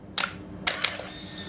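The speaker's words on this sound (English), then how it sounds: "what you should hear, that whirring noise, it's just rewound automatically" Canon T90 film camera motor-rewinding its film automatically at the end of the roll: a few sharp mechanical bursts, then a steady, fairly close high whir holding to the end.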